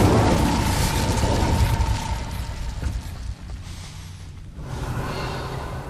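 Incendio fire spell cast in the Hogwarts Legacy video game: a loud, rushing burst of flame and rumble that stays dense for several seconds, then dips briefly and returns as a steady roar.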